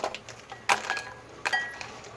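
Faint crisp crackles and light clinks as crunchy fried phulki dough balls are handled, a few sharp snaps over a quiet background.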